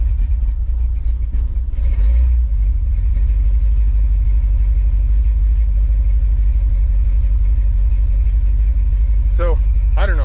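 A 1957 car engine fitted with FiTech fuel injection idles with a rough, idling fault, making a loud, steady low rumble close by with only slight changes in pitch.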